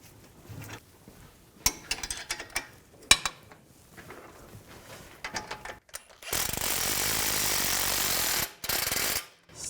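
A power tool runs a nut onto a control arm bolt on a 2011-2017 Nissan Juke, a loud steady whir lasting a couple of seconds near the end, after scattered clicks and clanks of parts being handled.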